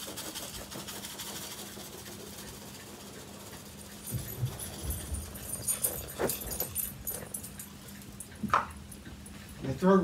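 Dogs whimper and make short yelps over the steady mechanical hum of a Panasonic MC-6347 vacuum cleaner sucking up rice, with scattered clicks and scuffles nearby.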